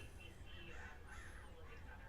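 Crows caw faintly outdoors, their calls distant and soft over a low, steady background.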